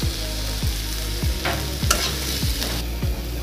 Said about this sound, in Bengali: দু 3 মিনিটের মতো আমি নেড়ে চেড়ে ভেজে নেব শাকটা।